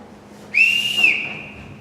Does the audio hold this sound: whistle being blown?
yes